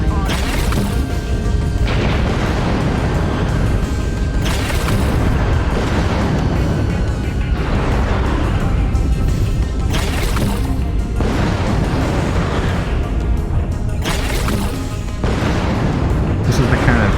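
In the MechWarrior Online video game, mech weapons hit an enemy Warhammer mech with repeated heavy booms and crashing impacts, dense and loud, rolling one into another in waves.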